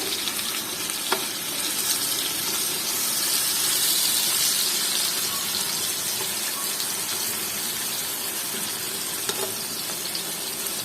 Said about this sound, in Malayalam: ഇനി ഇതൊരു മീഡിയം ഫ്ലെയിമിൽ വെച്ചിട്ടാണ് നമ്മുടെ ചിക്കൻ ഫ്രൈ ചെയ്യാൻ